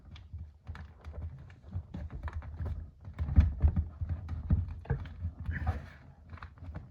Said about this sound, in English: then you take the nose and fold it to that point